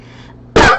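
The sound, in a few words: cough into microphone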